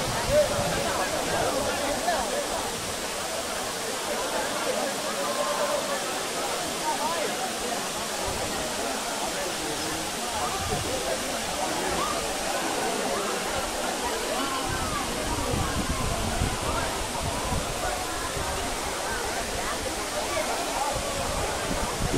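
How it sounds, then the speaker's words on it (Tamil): The Agaya Gangai waterfall in the Kolli Hills roars as a steady, broad rush of falling water, continuous and moderately loud throughout. "ஆகாய கங்கை ஃபால்ஸ் கொல்லிமலை"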